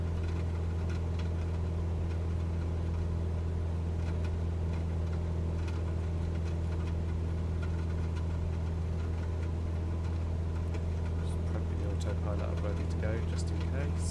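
A light aircraft engine drones steadily during a climb with throttle set back to 2,500 in Microsoft Flight Simulator 2020, a constant low hum with faint clicks and a brief rattle near the end, no talking.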